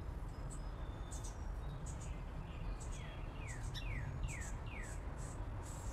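Birds calling outdoors in a city, a scatter of thin, high chirps and quick descending tweets repeating over a low, constant rumble of urban background noise, faint and somewhat distant.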